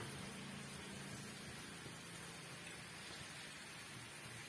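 Somas pastries fry in hot oil with a dense, even sizzle and crackle, steady and faint throughout with no pauses.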